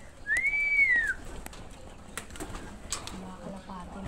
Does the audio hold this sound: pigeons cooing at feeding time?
yes